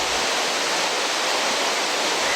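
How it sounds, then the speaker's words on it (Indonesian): A 20-metre jungle waterfall roars as a steady, dense broadband rush with no breaks, loud and close, with no voices over it. "saya langsung menuju ke air terjun dengan ketinggian 20 meter ini."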